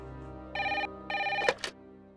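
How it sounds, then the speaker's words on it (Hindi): A telephone bell rings in two loud, bright bursts followed by a brief clatter, as if the receiver is picked up, with no talk. "फोन बज रहा है"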